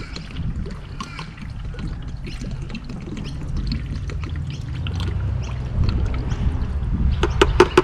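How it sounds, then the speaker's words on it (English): Engine oil flush poured from a bottle into a 2012 Audi Q7 engine, a faint steady gurgling trickle with light handling knocks and clicks near the end. "Oil engine flush, pour all in."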